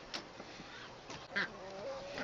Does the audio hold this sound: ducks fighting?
yes